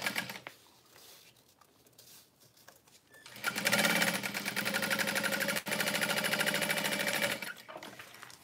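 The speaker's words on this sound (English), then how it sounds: "Turn on my sewing machine" A sewing machine starts up after a quiet moment and stitches steadily with a fast, even mechanical rattle.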